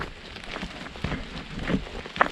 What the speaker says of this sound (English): That rain's definitely a bit heavier now.